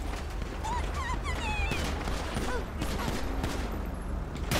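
A GTA 5 shootout in which a police motorcade escorting a judge comes under attack, with dense, continuous gunfire crackling at moderate distance and bursts overlapping throughout.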